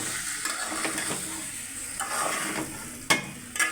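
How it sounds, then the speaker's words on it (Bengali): Chicken liver and potatoes sizzle in oil in a pan while being stirred, a constant close hiss punctuated by scraping and a couple of sharp utensil knocks against the pan. "এখন আলু দিয়ে কলি দিয়ে একসাথে ভালো মতো কষাই নেবে"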